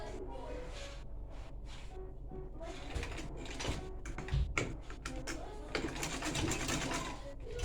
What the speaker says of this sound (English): Then I'm going to keep it on the 1 inch distance and sew.